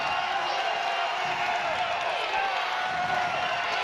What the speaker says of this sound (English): This crowd loves it.